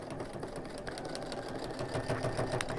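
A sewing machine stitches a quilt block, its needle chattering in a fast, steady mechanical rhythm with a faint motor whine, fairly quiet and close, with no voices.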